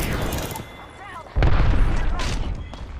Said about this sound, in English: we're getting grenaded from the back